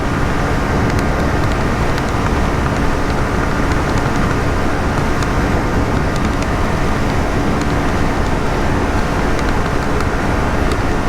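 A 2025 Yamaha XSR 155 motorcycle in sixth gear at speed, a loud continuous roar of engine drone mixed with heavy wind rush, steady and unbroken throughout with no speech.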